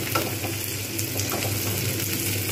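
Onion frying in a pan for kolmi shak (water spinach), a steady, close sizzle with a constant hiss and faint stirring scrapes, no talking.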